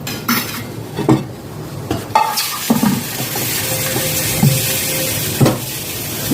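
Shrimp dropped into a pan with cut chillies for a Bengali fried lotus-stolon and prawn dish, with repeated clinks and scrapes of a utensil against the pan over a steady low background hiss.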